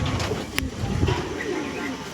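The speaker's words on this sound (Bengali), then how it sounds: "এই যে পিঠ সাদা পায়রা।" Soft, low cooing from a white-backed pigeon among a group of domestic pigeons being fed grain, heard nearby over a steady rustling background, with one brief sharp click in the middle.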